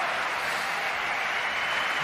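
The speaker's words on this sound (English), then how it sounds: "he deserves that clap from Goran" A short burst of steady applause from a crowd, even and sustained for about two seconds.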